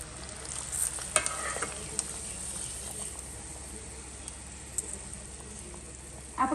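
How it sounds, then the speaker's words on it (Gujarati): Browned garlic sizzles in hot oil during a dal tempering, a steady crackling hiss with a few sharp pops and a stirring clatter near the end. "લસણ એકદમ મસ્ત બ્રાઉન કલરનું થઈ જાય ને એટલે સીધો ઉપર દાળનો વઘાર કરી લઈએ"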